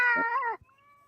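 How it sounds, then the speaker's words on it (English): A cat gives one short, close meow that wavers briefly and breaks off, followed by a faint, thin tone in an otherwise quiet space. "That cat."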